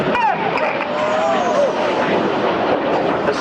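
RAF Red Arrows jets roar loudly overhead during the opposition barrel roll at an air show, a sustained broad engine rush with a sweeping pitch shift as aircraft pass.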